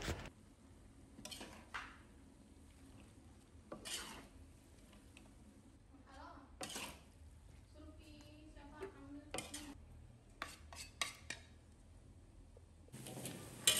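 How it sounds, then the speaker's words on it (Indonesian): Noodles and seasoning are stirred in a pan with mustard greens, a utensil scraping and clinking against the metal at irregular intervals over a faint sizzle, close and fairly quiet, with no talk. "Lalu kita aduk sampai bumbunya tercampur rata."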